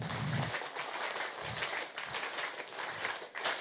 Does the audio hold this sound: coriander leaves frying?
no